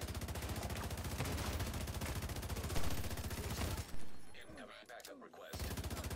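A FAMAS assault rifle in The Division 2 fires in fast continuous automatic bursts, loud and close, pausing briefly near the end before resuming.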